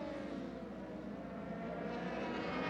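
A steady, droning roar from two racing motorcycles at Oulton Park in the Triumph Triple Challenge holds at a near-constant pitch, with a faint resonant beating as the two engines run at almost the same revs.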